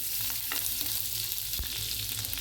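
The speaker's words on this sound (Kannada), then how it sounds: "ಇದು ಸ್ವಲ್ಪ ಎಣ್ಣೆಯಾಗ ಫ್ರೈ ಆಗೈತಿ" Chopped garlic frying in a little oil in a pan, a dense continuous sizzle with occasional stirring clicks, close and steady, no voices.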